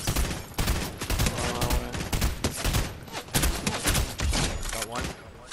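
Gunfire in a multiplayer shooter video game, loud dense bursts of rapid shots coming in several volleys, close, with players talking over the shooting.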